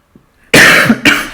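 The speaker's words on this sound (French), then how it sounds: "je suis un petit peu grippée, donc j'ai tendance à tousser par moments" A woman with the flu coughs, a faint throat sound followed by two loud, close, harsh coughs in quick succession.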